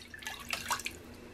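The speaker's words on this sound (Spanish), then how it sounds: "Lo primero que voy a estar haciendo es agregando lo que es la taza de agua." A cup of water is poured into a pot sitting on the stove, giving a short splashing trickle of liquid at close range with no talk.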